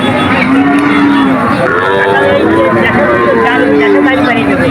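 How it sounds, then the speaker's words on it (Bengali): Two young Friesian heifer calves at a crowded cattle market in Betaga, Bagerhat, low drawn-out moos rising and falling over several seconds beneath loud, continuous talk and market bustle. "আমার সামনে দুটি ফ্রিজিয়ান জাতের বাছুর দেখা যাচ্ছে"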